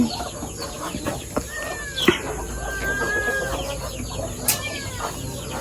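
Chickens cluck and squawk nearby, with a few sharp calls and a brief flutter of wings over a steady outdoor background.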